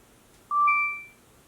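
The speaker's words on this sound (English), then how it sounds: "I heard the beep sound come from the camera itself" A single short electronic beep from a Nest indoor security camera during setup, clear and tonal, sounding alone against quiet background hiss.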